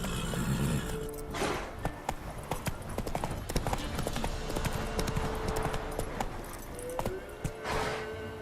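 Roach the horse trotting in The Witcher 3, a steady clip-clop of hooves running close and fairly loud throughout, over a low ambient game bed with brief soft swells at either end.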